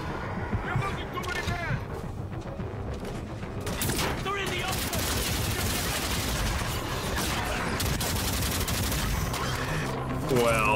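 Assault rifle gunfire in Call of Duty: Infinite Warfare, dense and continuous, with a louder stretch after the first few seconds. It mixes with game music and effects, and a voice speaks over parts of it.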